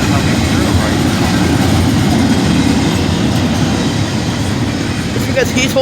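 A train rolls past the Crissey Road crossing in Holland, Ohio, with a loud, steady rumble and rhythmic wheel clatter, close up, a faint squeal near the end and voices murmuring beneath the noise.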